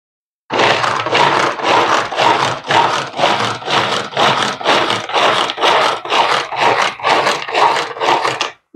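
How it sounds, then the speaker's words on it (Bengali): Ginger, garlic and green chili are chopped on a board with a knife in quick, even strokes, about two per second, close and crisp, with no talking. "আদা রসুন আর কাঁচা লঙ্কা কিন্তু একটু কুচিয়ে নেব"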